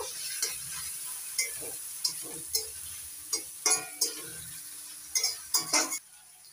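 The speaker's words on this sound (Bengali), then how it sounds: "মশলাটা ভালো করে কষিয়ে নেব।" Spice paste of ground green chilli and coriander with cumin powder frying in a pan for gati kachu kasa, a soft steady sizzle broken by about a dozen sharp scraping stirs and clinks of a spoon against the pan.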